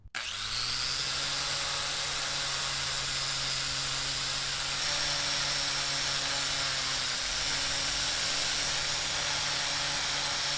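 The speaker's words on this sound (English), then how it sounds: "So now we're going to wire wheel this bad boy." A spinning wire wheel cleans a Honda CRX brake caliper, spinning up to a loud, steady high-pitched whine with a rough scraping hiss that holds close and continuous.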